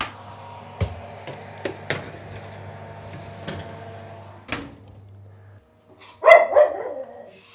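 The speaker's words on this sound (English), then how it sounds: "Sound effects are being provided by Humphrey the dog." Humphrey the dog barks several times in a home kitchen, sharp separate barks scattered over a steady low hum, followed by a louder burst near the end.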